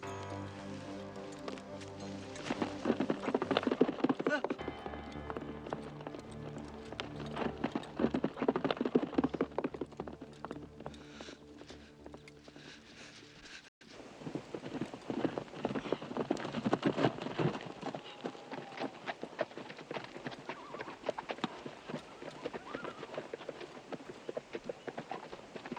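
Horse hooves clip-clop in a quick, irregular patter over a faint outdoor bed, keeping on for a long stretch with a brief break midway before the trotting resumes.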